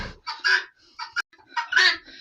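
Several roosters crow loudly and close by, one drawn-out call following another with short gaps between.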